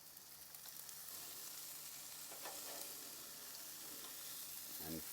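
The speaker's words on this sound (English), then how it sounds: "Okay, time to flip the fish." Jerk fish frying in a pan gives a steady, close sizzle throughout, with a brief scrape and clatter near the end as two spatulas work under the fillets to turn them.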